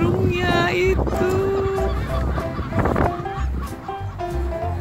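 Birds honk and squawk repeatedly up close while being fed, with children and adults talking over the calls.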